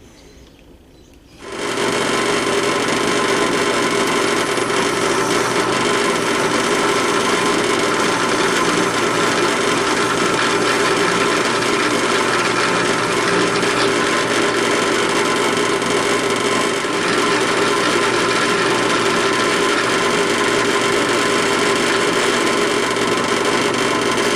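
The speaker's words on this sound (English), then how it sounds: "Drilling handle scales on a non-tapered Tang" A loud, steady mechanical whir of a power drill starts abruptly after a moment of quiet and runs continuously without pause, drilling knife handle scales.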